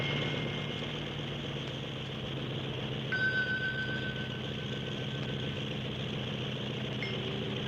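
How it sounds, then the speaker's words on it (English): A small plane's motor drones steadily and evenly throughout, a low continuous hum with a faint higher whine entering partway through, no voices. "I thought the motor of the plane started acting up. There was a change in the sound of the plane."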